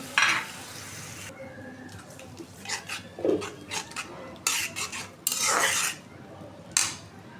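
Spices sautéed with reddened, browned onions in a pan, with bursts of sizzling and the scrape and clink of a metal spoon against the pan in irregular strokes, close and fairly loud.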